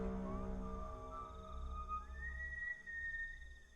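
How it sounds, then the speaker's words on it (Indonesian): Eerie, drawn-out whistling from the teaser trailer of the horror film Pamali: Dusun Pocong rises and glides slowly between pitches over a low, rumbling drone, with no talk. "kayak seisi desa bersiul di tengah malam lo lagi gali kubur tuh"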